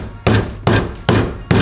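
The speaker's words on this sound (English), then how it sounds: "I'm gonna just hammer a little bit more while I'm here" Four loud, evenly spaced hammer blows on metal car parts while clearing room for an LS engine swap in a budget build, each strike sharp and close with a short ringing decay.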